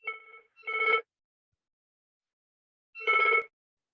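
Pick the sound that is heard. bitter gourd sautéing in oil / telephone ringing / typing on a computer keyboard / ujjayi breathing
telephone ringing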